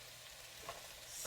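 A tilapia fillet sears in a hot pan with a steady, faint crackling sizzle, soft and even throughout with one small pop, and no voices.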